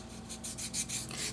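A small piece of wood gets a light hand sanding for a craft project, heard as a few quick, soft rasping strokes close by with no voices.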